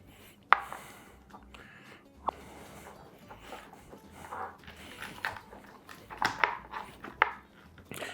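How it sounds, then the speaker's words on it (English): A knife works through a smoked pork rib bone close by, giving a few sharp cracks and crunches spaced over several seconds between quieter scraping and handling noises, with no talking. "Got to cut through that bone."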